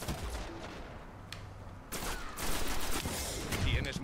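Gunfire in Destiny multiplayer, with dense bursts of shots from heavy ammunition at close range. The firing is loud and continuous, and it swells over a busy game soundscape.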